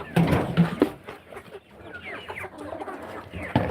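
Several chickens cluck in a coop, a mix of short close clucks and softer calls from the flock, busiest at the start and end.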